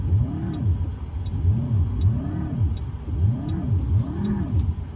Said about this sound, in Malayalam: ആക്സലറേഷൻ കൊടുത്ത് കാണിച്ചു തരാം.